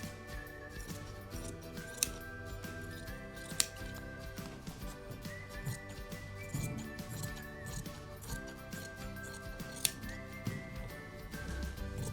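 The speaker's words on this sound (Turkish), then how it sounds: "Bir de kemer kesiyorum hemen." Scissors cutting fabric for a skirt waistband, giving a quiet, steady run of snipping and shearing with a few sharper clicks, close and soft.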